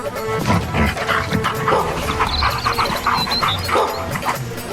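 A dog barks and yips repeatedly in a busy scene full of other sound, the barks loud and close, blending with steady background noise and clatter throughout.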